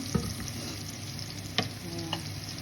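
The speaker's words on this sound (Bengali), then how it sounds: "রসুন বাটা দিয়ে দিলাম, হালকা একটু সটে করে নিব।" Garlic paste sautéing in a pan gives a steady low sizzle, with a few light utensil taps and scrapes breaking through, close up and with no talking.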